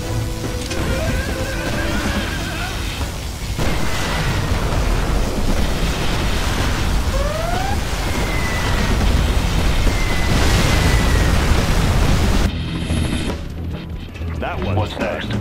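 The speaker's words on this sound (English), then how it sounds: "Particle cannon activated." A particle cannon superweapon firing in the video game Command & Conquer Generals: a loud, sustained barrage of deep booms and crackling blasts, with a few rising whines, that runs for about fifteen seconds before quieting briefly.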